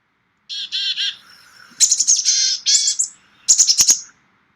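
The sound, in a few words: recorded songs of black-capped chickadee and boreal chickadee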